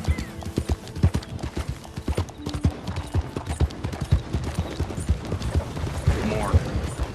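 Galloping horse hooves in Red Dead Redemption 2 pound in a fast, close rhythm, joined by game sounds, with someone talking over them at times.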